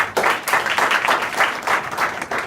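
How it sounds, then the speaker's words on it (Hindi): School students clapping in a classroom or hall in Azamgarh, a loud, close burst of quick, uneven hand claps that starts abruptly and continues steadily to the end. "वेरी गुड, ताली बजा के लिए।"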